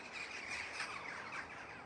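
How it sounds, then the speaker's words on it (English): Many birds chirp together in a garden, a dense, continuous twittering chorus with faint insect-like trills, quiet and fairly distant. "Army of birds."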